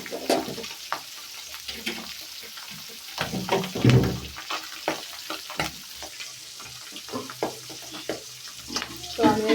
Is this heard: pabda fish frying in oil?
yes